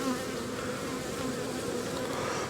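Bees buzz steadily in an open Australian beehive as the keeper works the frames, a dense, close, continuous hum with no talk.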